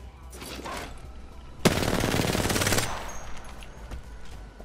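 An M99 submachine gun in Apex Legends emptying its last magazine, a loud, rapid, continuous burst of automatic fire lasting about a second, preceded and followed by quieter game sounds.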